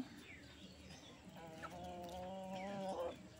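Chickens feed outdoors on a misty morning in a garden. A hen gives a sustained clucking call near the middle, over a soft, low background with faint ambient noise.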